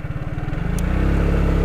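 A Piaggio MP3 three-wheel scooter's engine cranks over with a rapid rhythmic chug, then catches into a steady, close idle hum.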